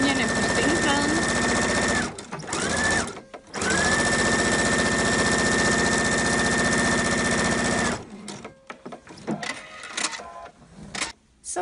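A sewing machine stitches a seam across a shirt of Liberty fabric, running steadily for long stretches with two brief pauses, then breaking into short stop-start bursts toward the end.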